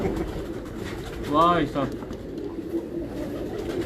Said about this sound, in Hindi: लो जी भाई साहब कबूतर लेके आए हैं खुद